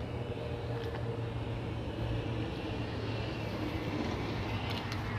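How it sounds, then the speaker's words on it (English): A heavy, steady low rumble of a passing train in Detroit fills the whole stretch, loud and continuous with no voices. "A fucking train."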